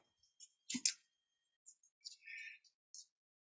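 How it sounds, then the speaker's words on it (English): Short chirps and clicking calls from birds in early spring, scattered across a few seconds with brief bursts and gaps, fairly faint and with no voices. "it's the sound of birds"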